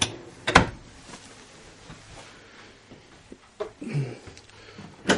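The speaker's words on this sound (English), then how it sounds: "we also have another full-size, full-extension pot and pan drawer" A full-size, full-extension pot and pan drawer in the kitchen of a 2011 Heartland Bighorn 3670RL RV gives a sharp knock, then a quieter rolling slide and a final thump. The sounds are close and brief, with no talking.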